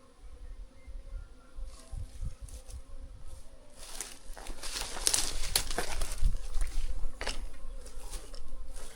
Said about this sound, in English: Like bees.